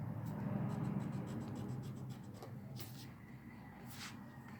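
A pen writes on paper in quick, soft, rhythmic strokes, faint and close over a steady low background hum, with no talking.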